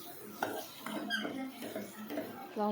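A spoon scrapes and squeaks against a pan as fried prawns are stirred into onions for Andhra gongura prawn curry, with several uneven close strokes separated by short pauses.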